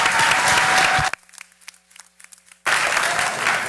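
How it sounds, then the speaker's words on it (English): A school board meeting audience applauds loudly in a sustained burst of many hands clapping, drops to near silence for a moment, then breaks into another full round of applause. "One more round of applause, please."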